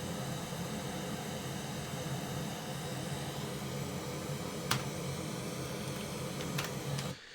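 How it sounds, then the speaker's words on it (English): Continuous broadband hiss of pink noise playing steadily, with a couple of faint clicks near the end before it stops. "I'm going to put the pink noise back on"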